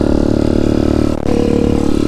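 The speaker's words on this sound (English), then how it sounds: "I can tell you these pit bikes are pretty noisy, both of them." A Demon X 170 Detroit pit bike engine runs loud and close at steady high revs, a continuous raspy drone with a brief dip in the middle before holding again.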